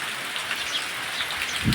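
Steady, dense rainfall hisses continuously across the whole stretch, heavy and close, over a village in Gir, Gujarat, at dawn, with a slight low rumble near the end and no voices.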